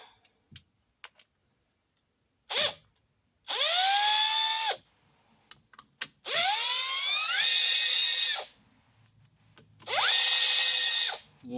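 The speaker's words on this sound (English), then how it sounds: "Yeah, that drill's loud. It's an old one." An old electric drill runs in three loud bursts, each spinning up with a rising whine and holding steady, separated by quiet gaps with small clicks and handling noises.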